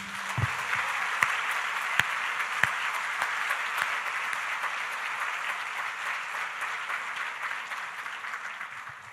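A church congregation applauds, a dense, sustained wash of many hands clapping at steady loudness, with a few sharp claps near the start.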